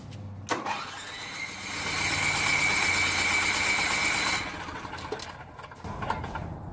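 An old generator engine cranks over on its electric starter, a steady loud whirring churn lasting a few seconds before cutting off, with clicks at the start and end and no firing.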